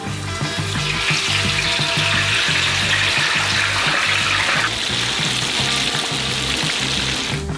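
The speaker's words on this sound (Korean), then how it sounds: "뜨거운 기름에 감자딥을 담그세요." Steady, loud sizzling and bubbling of potatoes frying in hot oil in a huge pot, a continuous crackling hiss with no voices.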